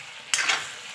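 Pork with ginger, garlic and green chilli stirred in a hot pan: a single sudden sizzling scrape followed by continuing fry hiss, close up, no talking.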